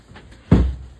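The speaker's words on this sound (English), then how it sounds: "Moving the chair." A chair is shoved across the floor indoors, one sudden scraping thud midway that fades out over the next half second, with no talking.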